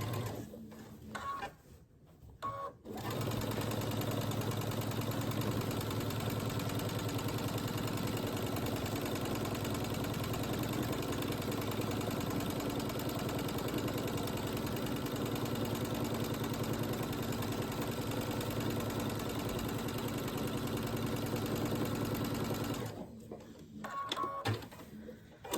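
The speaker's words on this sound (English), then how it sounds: "I'll go back to the machine and I'll just go a little bit before where I ended and start stitching all this down." A sewing machine runs steadily while stitching down fabric on a handmade child's gift, one long continuous whirring stretch of about twenty seconds, close and even, framed by brief handling noises at the start and end.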